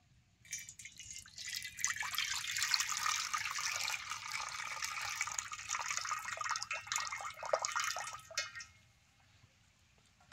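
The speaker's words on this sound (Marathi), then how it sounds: "आता हे वरचं पाणी असं दुसऱ्या पातेल्यात काढून घ्यायचं" Water from a crab-shell extract being poured off into another pot, a steady splashing trickle lasting about eight seconds before it stops, close and fairly quiet with no talk.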